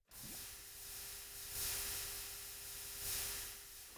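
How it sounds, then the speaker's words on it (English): Steady hissing sizzle of lava burning blocks in Minecraft, a continuous broadband crackle with swells around the middle and end, no talking. "Hear all that burning? That's golden right there. Sizzle."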